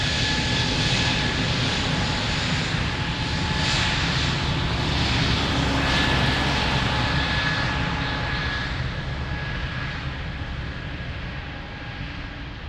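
An airliner taking off from runway 02 at Lisbon Airport, its engines a loud, sustained roar with a steady whine, holding strong before slowly fading as it climbs away.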